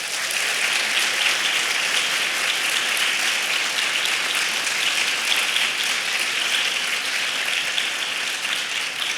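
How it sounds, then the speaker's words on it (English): An audience at a morning award ceremony for distinguished service in international education gives a steady round of applause, a dense, even wash of many hands clapping throughout with no talk over it. "What a great round of applause for this early in the morning."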